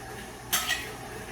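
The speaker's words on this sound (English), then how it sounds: "we're gonna add these farm fresh eggs one at a time to our mixture" A farm-fresh egg drops into a mixing bowl of batter, giving one short, sharp clink and a softer second tap close by, with quiet room tone before and after.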